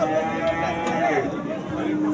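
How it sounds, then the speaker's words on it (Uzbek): Fattened bulls at a livestock market in Syrdarya, a low steady moo rising over a busy background murmur of the crowd. "Navbatdagi ho'kizlarimiz, boqma ho'kizlar."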